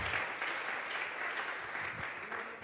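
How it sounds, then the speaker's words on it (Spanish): A church congregation at a Sunday service applauds, a dense, steady burst of clapping from many hands throughout, heard up close without voices. "Vamos a regalarle ofrenda de palmas al Dios de la gloria"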